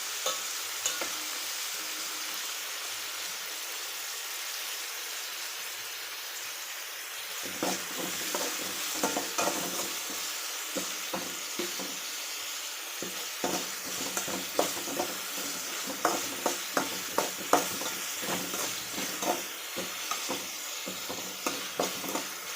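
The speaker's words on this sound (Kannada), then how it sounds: "ಇವಾಗ ಟೊಮೆಟೊ ಹಣ್ಣು ಹಾಕ್ತೀನಿ. ಇದನ್ನ ಸರಿಯಾಗಿ ಫ್ರೈ ಮಾಡ್ತೀನಿ." Tomatoes frying in a hot pan, a continuous sizzle with repeated scraping stirs that grow busier and more rhythmic, close up and with no talk.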